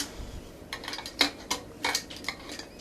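A metal lid is twisted onto a glass jar of hot green mint jelly, giving a run of small scraping clicks and light clinks, close and fairly quiet, with no talking.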